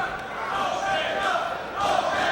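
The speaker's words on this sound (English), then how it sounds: "you can hear the crowd starting to chant Omega, Omega" A wrestling crowd in an arena chants for Omega in a steady rhythmic roar that swells toward the end, with no clear single voices standing out.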